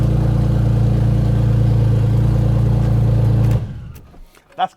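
A car's engine revs hard on a cold start with its exhaust valves open, a loud sustained roar that cuts off abruptly and leaves a few faint clicks and a short voice.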